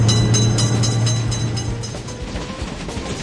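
Close train roar and wheel clatter at a level crossing in a railroad crossing game, loud at first and easing slightly as it passes.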